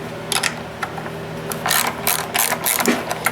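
A ratchet wrench turns a 10 mm bolt on a small blue generator while a cover is being removed. Quick bursts of close, rapid clicking come in uneven spurts.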